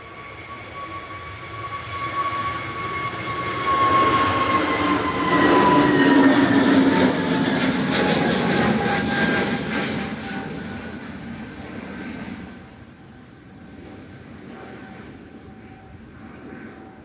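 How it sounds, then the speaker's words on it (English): An Airbus A320neo on its takeoff roll at Manchester Airport, bound for Lisbon. A broad jet roar swells to a loud peak mid-clip with a steady high whine over it, then eases off as the aircraft pulls away. "Heading out to Lisbon, CSTVC A320 Neo with flight 1313"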